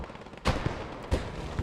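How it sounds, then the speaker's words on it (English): Machine guns trade fire in the video game Post Scriptum, with two sharp, loud bursts about half a second apart, each followed by a fading tail over a low background rumble. "Both machine guns trading with each other as a grenade goes off"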